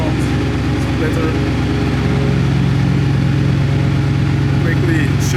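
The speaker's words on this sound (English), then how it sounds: "Quickly show you the car in the background with all the noise. It's also a Regera." A Koenigsegg Regera hypercar runs in the background, giving a loud, steady engine drone with a low rumble throughout, close and constant with no clear revving changes.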